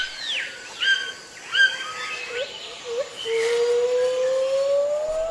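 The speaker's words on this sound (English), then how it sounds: "He's trying to sing louder than the other bird. It's a toucan with a lovely bright beak." A toucan calls in a rainforest among other birds, with a few chirps and sliding whistles followed by a long rising tonal note, heard amid a busy background.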